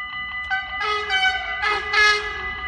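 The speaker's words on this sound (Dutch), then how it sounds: "Ja, hij toetert!" An Arriva passenger train in the Netherlands gives several loud blasts of its two-tone horn, short toots first and then longer sustained notes, close by and with no talk over them.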